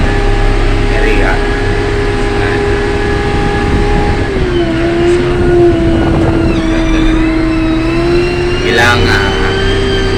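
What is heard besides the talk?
motor grader engine running while driving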